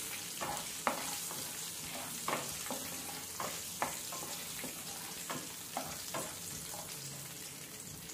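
Garlic cloves and tempering spices fry in oil for a tomato dry chilli pickle. A soft continuous sizzle runs throughout, with light rhythmic scrapes of stirring every half second or so.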